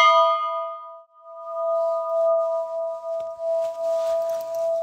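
A temple bell at Kasar Devi Temple rings with a bright strike, then a steady, sustained metallic hum that carries on for several seconds, with faint background noise toward the end.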